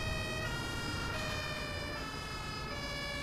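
A wailing emergency vehicle siren sounds in the OMSI bus simulator game, a steady layered tone with low engine rumble beneath, moderately loud and continuous.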